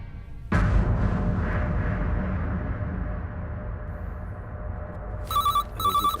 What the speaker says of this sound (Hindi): सर फोन बज रहा है।